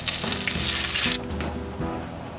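Garlic and chili flakes sizzle loudly in hot oil for penne arrabbiata sauce, then tomatoes hit the pan and the frying abruptly quiets to a softer, bubbling simmer.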